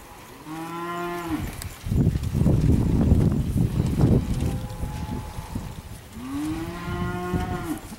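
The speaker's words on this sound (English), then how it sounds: "A real nice set of feeding heifers from Mark Bray" Feeding heifers at a livestock auction moo loudly and close, two long drawn-out bellows separated by a burst of rustling and wind-like noise, with a fainter moo in between.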